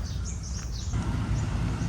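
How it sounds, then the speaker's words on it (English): Birds calling in a Bangkok park, faint high chirps over a steady low background hum, with the calls thinning out after the first second. "Birds, a lot of bird sounds out here."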